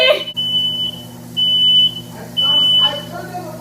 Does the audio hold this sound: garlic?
no